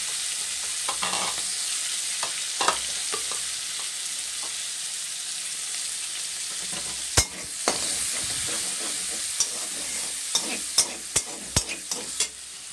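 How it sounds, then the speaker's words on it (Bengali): Chopped onion and garlic frying in hot oil with turmeric, a constant close sizzle punctuated by a spatula's scrapes and sharp knocks against the pan, clustering toward the end. "পেঁয়াজ আর রসুনটা একটু লাল লাল হওয়া অবধি, কালারটা যতক্ষণ না একটু চেঞ্জ হয়ে যাচ্ছে, আমি ভালো করে ভেজে নেব।"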